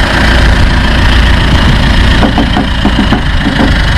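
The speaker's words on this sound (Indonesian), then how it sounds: "Suara diesel ya. Neng. Common rail ya." A Mitsubishi Pajero's common rail diesel engine idles loudly and steadily up close, a constant rumbling drone with a faint ticking knock.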